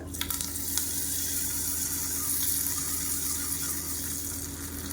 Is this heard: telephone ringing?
no